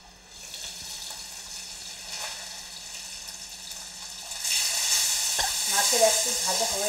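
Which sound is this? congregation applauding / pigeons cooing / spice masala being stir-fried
spice masala being stir-fried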